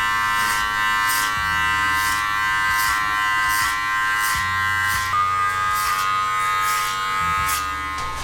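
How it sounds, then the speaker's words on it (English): An electric hair clipper cutting hair in clipper-over-comb style during a bald fade, giving a steady close buzz with a hum that shifts in pitch as it moves and regular soft pulses of the strokes. "All we have to do is just finish up with clipper over comb, just to get those final details"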